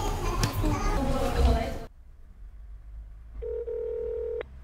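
A telephone call is attempted from another phone after a noisy stretch of voices and room sound; silence follows, then a steady single dial or ringback tone holds for about a second before cutting off.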